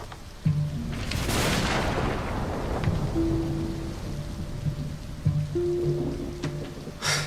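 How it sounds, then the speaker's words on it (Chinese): Heavy rain pours steadily while a loud thunderclap rumbles close overhead early on, with softer rolling thunder and a sharp crack near the end. "可您听这雷，始终就在我们头顶上"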